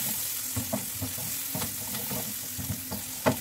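Onions frying in a pan, a soft steady sizzle broken by several sharp spatula scrapes and taps as they are stirred, close up with no talking.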